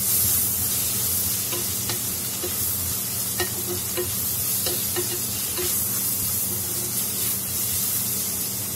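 Crushed ginger and garlic sauté in a hot pan with a steady, close sizzle and hiss, broken by scattered clicks of a spoon stirring against the pan.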